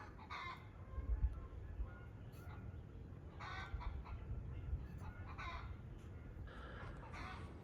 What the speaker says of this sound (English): I can hear a hen clucking.